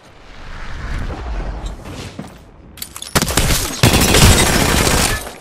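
Gunfire in the Apex Legends battle royale game, with rapid bursts of automatic weapon shots that build from scattered fire into loud, dense, close volleys toward the end.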